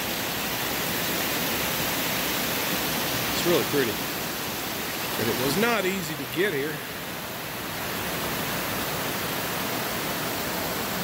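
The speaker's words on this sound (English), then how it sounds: "This is the cascade we've run into here at Rock Creek." The Rock Creek cascade in Laurel County, Kentucky, gives off a steady, full rushing roar heard close by, while a person speaks briefly over the constant water noise.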